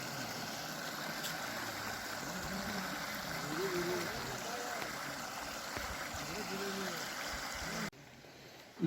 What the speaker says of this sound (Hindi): देखिएगा बहता पानी है यहाँ पे